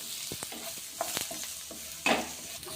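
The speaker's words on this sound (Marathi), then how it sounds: "असं गुलाबी रंगावर आपण कांदा परतून घेणार" Onion sautés in a pan until pink, a soft sizzle under irregular stirring taps and scrapes, with one louder clatter near the end and no talking.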